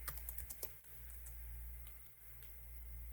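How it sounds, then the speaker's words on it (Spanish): Quick keystrokes on a computer keyboard cluster at the start, then fade to scattered faint clicks over a steady low hum while someone codes in Java in the Eclipse editor. "presiono control espacio para que nos sugiera la palabra"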